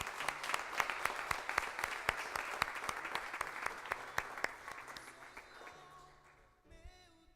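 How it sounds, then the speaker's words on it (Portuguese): A church congregation claps in praise at an evangelical meeting, a brisk, regular rhythm of unison handclaps that carries strongly and then tapers off, ending in a brief sustained tone. "louve ao Senhor com as suas palmas"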